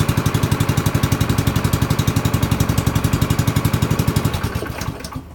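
A small gas engine, freshly started after priming, idles with a steady, rapid chugging pulse, loud and close, then winds down and cuts out near the end.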